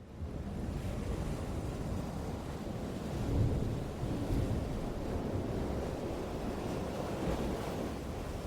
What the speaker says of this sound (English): Under the crashing waves